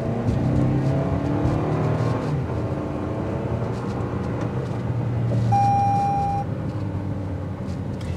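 A Toyota Highlander with a 265-horsepower engine accelerates up to speed, a steady engine drone and road roar holding strongly across the stretch with a faint chime partway through.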